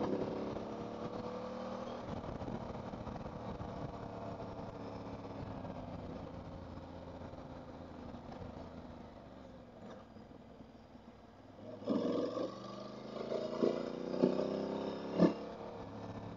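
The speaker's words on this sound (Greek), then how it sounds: "Πάρα πολύ ωραία μοτοσυκλέτα" An Aprilia Tuareg 660 motorcycle engine hums steadily while riding a narrow twisty road, pitch rising and falling with throttle, then revving harder near the end with sharper bursts.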